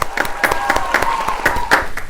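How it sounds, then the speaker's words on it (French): Audience applause at a company tech-show event, a burst of fairly loud, uneven hand clapping with distinct individual claps close by, with no speech over it. "Applaudissons-la."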